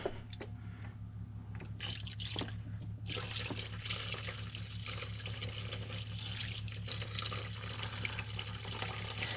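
Liquid is poured steadily into a soaking bath for a ratchet, a continuous splashing, trickling flow close by with a few knocks at the start.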